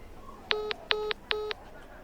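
Three short electronic keypad tones, evenly spaced and fairly close, against a quiet background.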